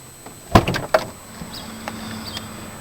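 The driver's door of a 1992 Ford Crown Victoria unlatches and swings open with a firm mechanical clunk and a second knock, close by, followed by a faint low hum and light rustling with no chime.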